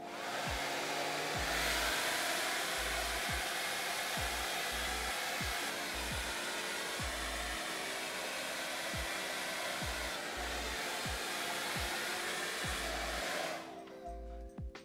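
A hair dryer blows steadily on wet clothes being worn, a loud constant whooshing roar with a rhythmic low thumping underneath, cutting off near the end.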